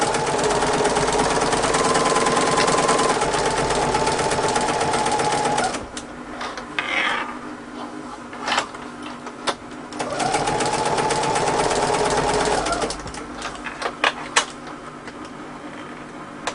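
Sewing machine stitching repairs on bag handles, running in a steady fast rhythmic whir for several seconds, pausing amid light handling noises, then running again, close and fairly loud.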